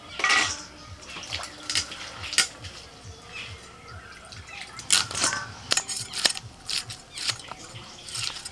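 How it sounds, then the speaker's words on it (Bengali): Okra washed by hand in a pot of water, with repeated sloshing, splashes and clinks against the metal vessel at an uneven rhythm, close by and with no voices. "ঢ্যাঁড়সগুলো ভালো করে ধুয়ে নিচ্ছি"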